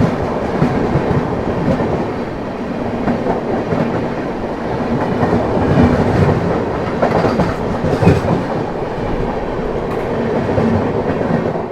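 A Jaynagar–New Delhi Swatantrata Senani Superfast Express rumbles past close by on a foggy day, with loud continuous wheel clatter and rail noise that holds steady throughout.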